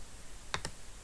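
Two quick, quiet clicks of a computer mouse, a fraction of a second apart, while someone works through the CeL online notebook projects interface on a computer.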